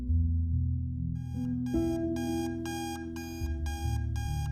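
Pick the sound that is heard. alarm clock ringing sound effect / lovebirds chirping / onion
alarm clock ringing sound effect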